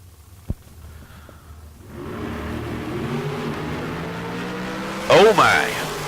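Drag cars launching side by side down a drag strip at a Tucson race, a quiet moment and a click, then a rising roar of engines that swells and holds, with a loud burst near the end.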